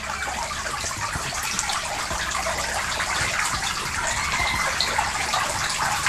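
Water sprays steadily onto moss in a plant propagation setup, a continuous close, dense hiss of spray with no talking.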